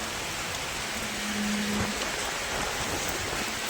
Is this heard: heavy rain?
yes